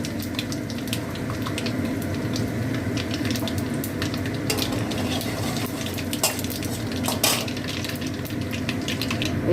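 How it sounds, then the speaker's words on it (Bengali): Mustard, fenugreek, fennel and asafoetida sizzle in hot oil for a tempering, a steady dense crackle that fills the whole stretch, with a few sharper pops and clinks of a pan or utensil near the end. "নিয়ে এইতে সর্ষে ফোড়ন দিলাম, এই যে মেথি ফোড়ন দিলাম, এই যে মৌরি ফোড়ন দিলাম, আর এই দিলাম হিং"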